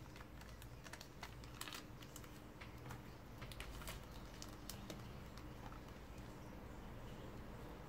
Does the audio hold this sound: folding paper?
yes